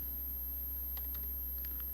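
Brief bursts of typing on a computer keyboard, a few quick close key clicks clustered in the second half over a steady low hum, with no talk.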